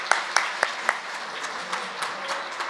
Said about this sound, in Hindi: इनके लिए जरा तालियां बजाएं